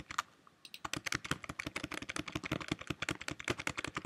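Rapid, close keyboard clicking at a computer during 3D modelling work in Maya, a dense run of sharp keystrokes after a brief quiet start, with no talking.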